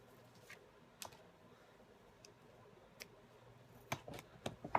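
Paper card trimmed with scissors in a quiet craft setting: a few faint, sparse snips and clicks at close range, growing a little busier toward the end.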